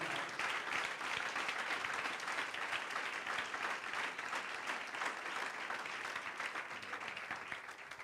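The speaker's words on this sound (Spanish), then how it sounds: "Dale un fuerte aplauso al Rey." A church congregation breaks into sustained, loud applause, a dense even clatter of many hands clapping throughout and easing off slightly toward the end.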